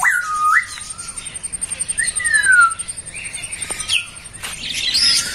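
Green parrots in a zoo aviary give loud, shrill whistling calls and chirps close by, with repeated squawks and rising tweets over a busy background of other bird chatter.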